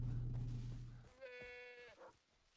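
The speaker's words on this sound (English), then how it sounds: "I heard a goat." A goat in the video game Far Cry 3 gives one short, nasal bleat, fairly clear and alone, following a brief low rumble of game ambience.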